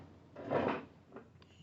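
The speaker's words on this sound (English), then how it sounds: "We got to get quieter chairs." A chair scrapes noisily across the floor during a religious study lecture: one rough, drawn-out drag, then a shorter scrape soon after, close by and with no talking.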